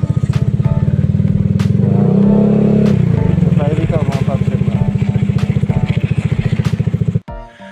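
A motorcycle engine drones loudly and close on a mountain road during a long Mindanao tour, a steady rapid pulsing note that rises briefly before cutting off sharply near the end.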